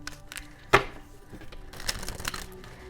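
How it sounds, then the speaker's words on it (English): Tarot cards are shuffled close by, starting with a sharp riffling snap and followed by a busy patter of softer card flicks and slides. "give me another shuffle"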